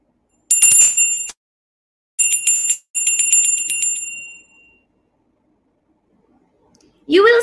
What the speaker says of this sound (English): you are listening to the sound of bell until it finished